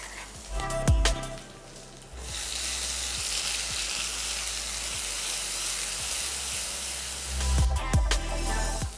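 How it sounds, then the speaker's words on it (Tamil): A ground paste hits hot oil in a kadai with a loud, steady sizzle that runs for several seconds, bracketed by a few close knocks and scrapes of a spoon against the pan. "இப்போ எண்ணெய் காஞ்சதும் இதில் இந்த பேஸ்ட்டை போட்டு நல்லா கொஞ்சம் வதக்கிக்கலாம்."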